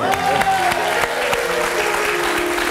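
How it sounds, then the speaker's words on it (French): A French television studio audience applauds loudly and continuously, thick crowd clapping layered over a held musical tone and a bright sliding note. "En canon, on applaudit Giorgio"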